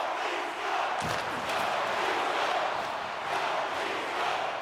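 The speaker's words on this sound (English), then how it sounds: "is now being applauded by the fans, as you can hear" Hockey fans in an arena during an Eastern Conference Finals playoff game applaud and cheer in a steady, moderately distant crowd roar with a brief louder burst early on.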